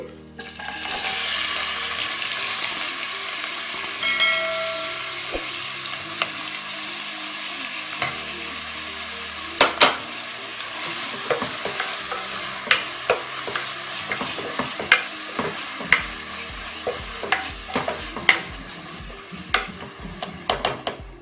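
Chopped onions and five green chillies, salted, fry in a pan for mutton curry while a spoon scrapes and stirs them: a steady close sizzle with irregular clinks and scrapes that grow busier toward the end, no voices.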